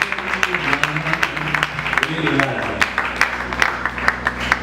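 A church congregation claps and acclaims during a worship service, with uneven, lively hand claps mixed under singing and voices, moderately loud and close throughout.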